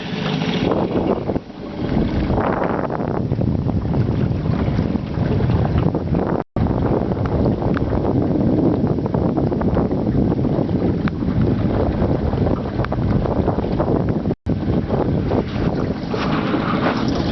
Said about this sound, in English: I don't know if you can hear me, it's really windy.